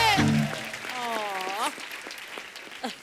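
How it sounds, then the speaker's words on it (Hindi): Studio audience applause on a Hindi TV comedy show, rising as a voice finishes speaking and continuing as scattered clapping beneath lingering talk. "एक बार जोरदार तालियां गोविंदा जी और सुनीता जी के लिए।"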